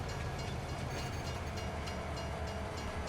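A train rumbles steadily past in the farming game Farming Simulator 22, a dense continuous roll of wheels and carriages at moderate level with no break, set in an Italian Emilia countryside map.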